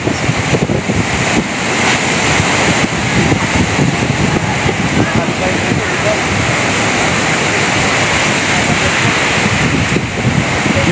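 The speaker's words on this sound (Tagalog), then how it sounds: "Tanggal yung bubong namin sa sobrang lakas ng hangin" Loud, roaring typhoon wind buffets the microphone continuously, a dense rushing blast with no break, and a faint voice speaks beneath it, in Ligao City, Albay.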